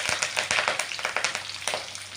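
Green chillies and curry leaves dropped into hot oil crackle and spit in quick, loud bursts, a close, uneven run of sharp pops over a frying hiss.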